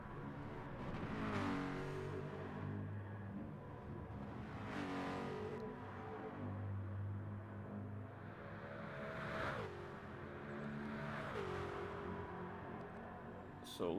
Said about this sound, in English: Oh, I love the sound of that.